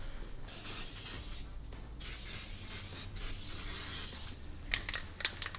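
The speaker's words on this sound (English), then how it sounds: "now we're ready to give her a coat of paint" Spray paint hisses onto a Castlemaine Rod Shop car differential in several close, sustained bursts separated by brief gaps, with sharper spurts near the end.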